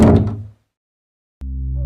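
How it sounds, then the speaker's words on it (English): A school gym door closes with a loud thud, followed by a short silence and then a steady low hum. "I closed the door quickly."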